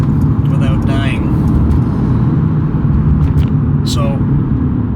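Car cruising on a highway in traffic at a merge, a loud constant low road rumble and engine drone inside the cabin, with some faint higher squeaks on top.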